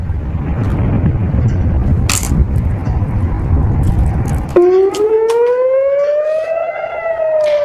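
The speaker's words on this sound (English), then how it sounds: "Loud explosions and sirens were heard in several areas, including in Jerusalem" Rumbling noise gives way to a loud wailing civil defense siren in Jerusalem that rises slowly in pitch and holds, sustained and carrying.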